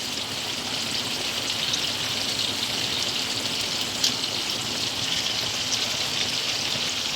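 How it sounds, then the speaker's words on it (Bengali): Hilsa fish pieces fry in hot oil, making a dense, steady hiss and sputter that stays constant and fairly loud throughout, with one brief pop. "একে একে মাছগুলো সব ভেজে নেব।"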